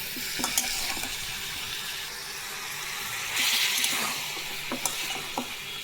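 Chicken and chopped tomatoes cooking in a pan over a high flame, a steady close sizzle with stirring scrapes and a brief louder hiss midway.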